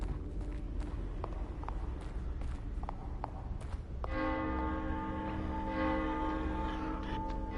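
A bell in The Evil Within video game rings out with sustained metallic tones over a murky background of footstep-like thuds and ambient noise, the ringing swelling midway and lingering to the end.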